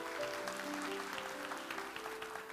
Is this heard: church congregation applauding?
yes